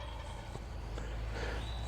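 A wild turkey gobbles from up on a hill, distant rattling bursts under a low steady background hum, with no talk during the calls.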